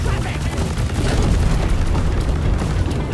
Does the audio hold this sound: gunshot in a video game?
yes